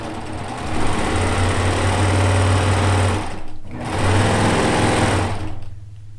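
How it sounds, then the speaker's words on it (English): A sewing machine stitches quilt rows together, running in two long steady whirring bursts with a low hum and a short pause between them, loud and close. "I'm going to finish sew each row completely together"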